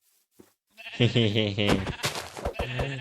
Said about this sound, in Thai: อ๋อน้องแกะ